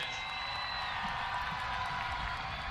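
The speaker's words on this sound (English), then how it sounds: "let's give all of our students a big round of applause" An audience applauds and cheers steadily for graduating adult education students at a ceremony, a dense sustained wash of clapping with scattered whoops.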